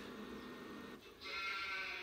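A single sheep bleats in a farming video game, a short nasal call following a soft breathy murmur, heard alone without talk.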